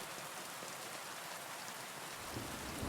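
Steady rain falls over quiet city streets lined with apartment buildings and parked cars, a soft, even hiss of drops with no voices.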